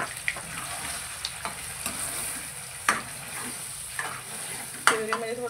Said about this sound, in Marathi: प्युरी घालून घेऊ तेलामध्ये आपण